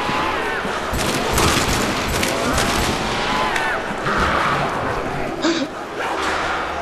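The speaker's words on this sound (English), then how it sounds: "Turn around and shoot some of these guys." Dense rapid gunfire from a Nazi Zombies custom moon map, continuous bursts of shots with scattered booms and chaotic game effects filling the whole stretch, loud and close.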